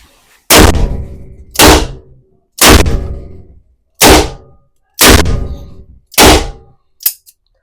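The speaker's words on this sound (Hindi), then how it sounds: "इस पे टेस्ट फायर करते हैं, आप चेक कर सकते हैं।" Revolver test shots with .38 Special and .357 Magnum rounds, six loud sharp reports at roughly one-second intervals, each with a short decaying echo, then a smaller seventh pop.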